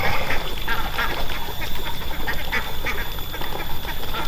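Indian runner ducks quack outdoors in wet-season humidity, a busy overlapping chorus of nasal calls over a steady hiss of ambient noise, fairly close and continuous.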